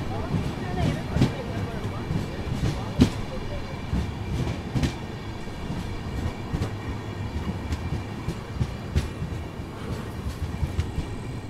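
Kailash Bharat Gaurav AC deluxe tourist train running at steady speed, a continuous rumbling rail roar with rhythmic wheel clicks and occasional sharper clanks, heard from inside a carriage, with speech in the background.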